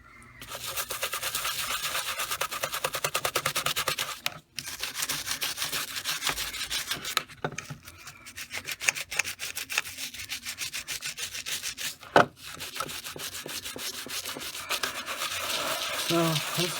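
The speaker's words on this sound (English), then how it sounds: "Scrubbing tanks." A brush scrubs paint off miniature model tanks in quick, rasping back-and-forth strokes, close and steady, pausing briefly a few times before resuming.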